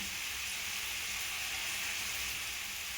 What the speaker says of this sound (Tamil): ஆயில் சூடாயிடுச்சு. சிறிதளவு கடுகு சேர்த்துக்கிறேன்.